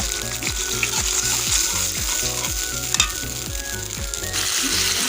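Fish curry spice paste being fried and stirred in a pan for a katla fish kalia: steady loud sizzle with repeated scraping strokes of a spoon against the pan, no talk.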